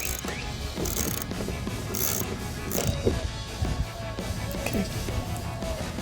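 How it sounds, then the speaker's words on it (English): Ratchet wrench with a 7mm socket working headlight mounting bolts on a 2021-2023 Ford F-150, giving repeated clicking mechanical bursts up close, with no one talking. "We're going to be using our 7mm socket."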